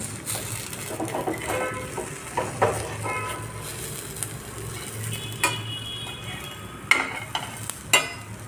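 Bread pakoda with cheese frying in a pan over a very low gas flame, a faint steady sizzle broken by a few light clinks and scrapes of a utensil against the pan.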